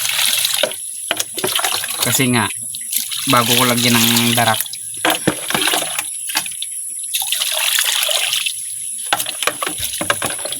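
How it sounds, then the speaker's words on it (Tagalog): Water is poured and stirred into duck feed made of banana, rice and rice bran, a splashing, gurgling flow that runs close under continuous talking. "ito lalagyan ko na muna ng tubig sa ako hahaluin"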